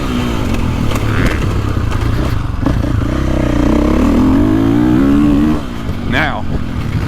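KTM 450 motocross bike engine rolling on the throttle, a rising, rough engine drone that climbs in pitch for several seconds then eases off, with a rider talking over it.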